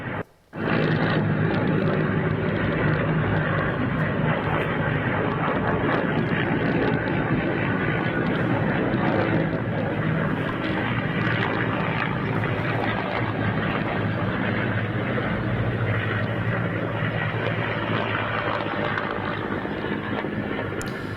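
A steady, loud roar of Mi-8 helicopter engines fills the whole stretch, broad and continuous, with no voices heard.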